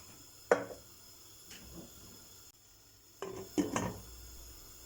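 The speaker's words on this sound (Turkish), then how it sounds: "Tenceremizin kapağını kapatıp ara ara karıştırarak pişiriyoruz" A few sharp metallic clatters of a lid settling onto a pot of cooking corn, two knocks early then a cluster of clinks near the end, against quiet kitchen background.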